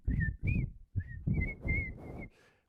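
A dipper sings a series of clear, high whistled notes, about seven short phrases in quick succession, each sitting over a steady rush of running water.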